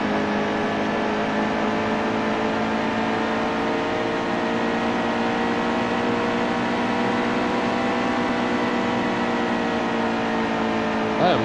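A NASCAR Heat 2 race car engine holds a steady, loud, high whine at full throttle, sustained without a break and rising slightly near the end.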